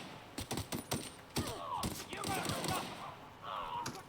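Repeated gunfire in The Outer Worlds video game, sharp bursts and single shots scattered through the clip at moderate loudness, mixed with other game sounds and a voice speaking.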